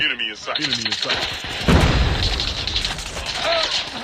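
Rapid gunfire from Call of Duty Mobile, a .50 GS Desert Eagle-style pistol and an M4 in play, with repeated loud shots and a heavy boom midway, over someone talking excitedly throughout.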